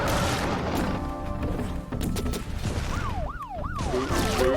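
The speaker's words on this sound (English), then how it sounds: "Whoop, whoop. That's the sound of the police." Police siren in the video game Test Tube Titans, a wailing sweep that rises and falls several times over a busy, noisy game mix with crashes and scattered impacts.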